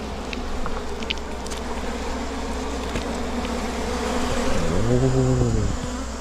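A dense, steady buzz of many bees swarming around a dug-up old ground bee nest, close and continuous, swelling slightly louder as individual insects pass near.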